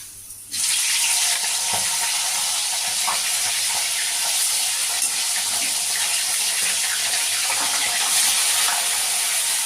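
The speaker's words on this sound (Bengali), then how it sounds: "তেল গরম হয়ে গেছে এবার আমি মাছের মাথাগুলো দিয়ে দেব" Hilsa fish heads drop into hot oil and fry with a loud, steady sizzle and hiss. The sizzle starts abruptly just after a quiet opening and continues unbroken, close and dense, with no talking.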